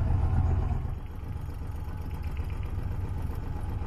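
A sailboat's motor idles at anchor off a cape, a steady low rumble that holds an even level throughout with no voices.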